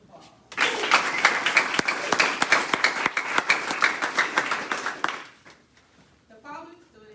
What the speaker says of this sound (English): Please give all of our dean's lists a round of applause